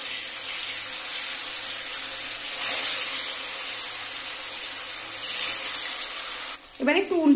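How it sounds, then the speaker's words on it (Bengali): Paneer pieces coated in salt and turmeric fry in hot oil, giving a steady, fairly loud sizzle that holds throughout and shifts briefly near the end as the pan is stirred. "এবার আমি পনিরগুলো ভেজে নেব।"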